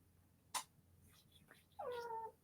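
A pet cat gives a single clear, drawn-out meow, close and fairly quiet, after a brief click and some soft rustling in a quiet room.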